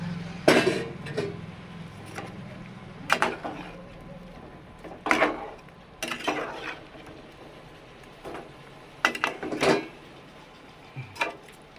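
Bitter gourd pieces being stirred in a coconut milk curry pot, with a series of scraping, clinking strokes of a utensil against the pot spaced every second or two, close and fairly clear, with no talking.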